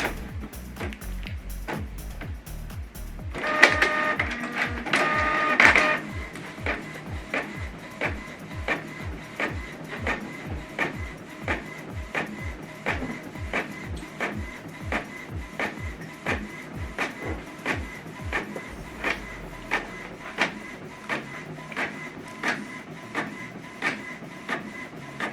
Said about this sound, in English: So it's going back in because we selected to print it double-sided.